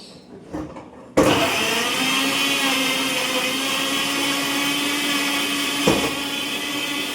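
A kitchen blender whirs into action on tomatoes, starting abruptly after a few quiet handling sounds and then running as a loud, steady, close motor drone, with a brief bump partway through.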